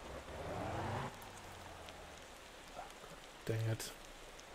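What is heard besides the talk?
rain in video game Motor Town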